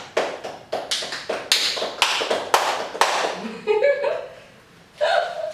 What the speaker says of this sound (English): Celebrate my victory, guys, first. Clap.